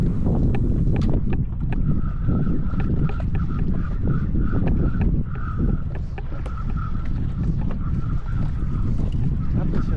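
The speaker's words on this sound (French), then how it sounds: "d'un coup le vent s'est levé. On se retrouve sur une mer rivée là." Strong wind rising over the open sea on a fishing trip around the Mitsio islands of Madagascar, with steady loud buffeting and roaring. It fills the passage throughout, with splashing and boat noise underneath.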